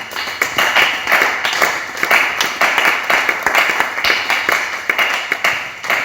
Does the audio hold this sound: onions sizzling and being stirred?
no